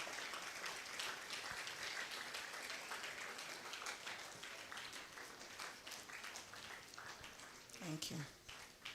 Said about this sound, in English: Please, let's keep clapping till they get to the stage.